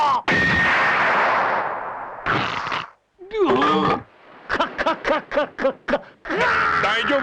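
A Dragon Ball anime Kamehameha Wave attack bursts out as a loud, sustained energy blast, followed by choppy roaring and crackling bursts of effects separated by brief silences.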